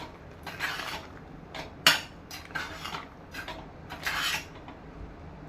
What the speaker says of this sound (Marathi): वेलची पूड मिश्रणामध्ये मिक्स करून घेऊया.